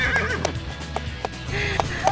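A riding horse in Kampung Borani, on a trail through eucalyptus forest, whinnies loudly and close while its hooves clop in a steady, uneven rhythm, with no talk.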